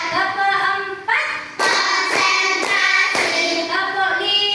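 Children in a classroom clap game beat out a quick run of about five sharp, close hand claps, tightly grouped over loud sung or chanted children's voices.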